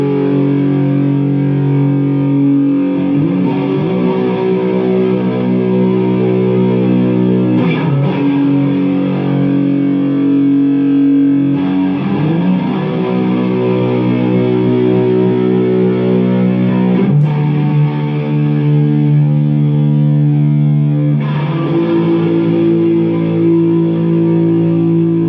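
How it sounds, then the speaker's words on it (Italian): Sustained electric guitar chords played through a Line 6 Helix with heavy distortion and reverb and the treble cut, ringing long and loud, changing every few seconds with no voices. "fare degli accordi che siano il più possibile lunghi e quindi distorsione, ma anche riverbero che allontana e anche un taglio sulle frequenze acute"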